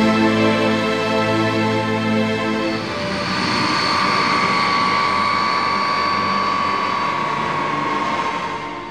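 An Indian Air Force transport aircraft flies past, first with a steady droning hum and then a broader roaring engine wash that holds loud and continuous before easing slightly at the end.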